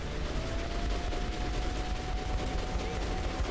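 Gunfire in the video game Metro Last Light, where dense and continuous bursts of shots blend into a loud, unbroken roar of game combat noise.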